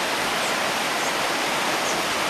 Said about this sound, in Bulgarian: Опасявам се, че мнението ви няма да се чуе поради тютене на реката